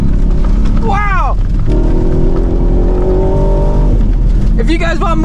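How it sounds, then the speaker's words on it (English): Ford Raptor R pickup at full throttle, a loud continuous engine roar with rising rev sweeps near the start and again near the end, people shouting excitedly over it. "This truck's just got so much horsepower, you can punch full throttle everywhere."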